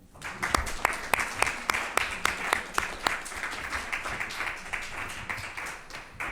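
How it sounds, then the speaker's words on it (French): Applause at a municipal council meeting: a smaller group claps, with a few sharp, close individual claps standing out over a softer steady patter that continues evenly. "Et on peut encore les applaudir."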